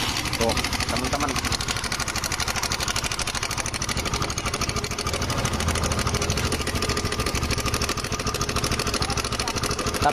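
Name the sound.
Honda Sonic motorcycle engine running, loose timing chain rattle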